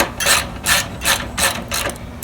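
A hand ratchet clicks in five quick, even bursts while backing out 10 mm bolts on the battery support of an S14 240SX with a KA24DE engine, close and crisp with no talk.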